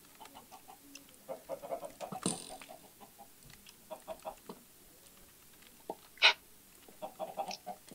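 Video game chickens cluck in short, scattered bursts at moderate volume, with a few sharper squawks and no talking.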